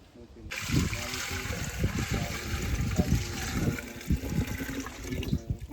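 Water splashing and sloshing as a bucket is hauled up from a well, with irregular knocks and trickles and a voice talking over it.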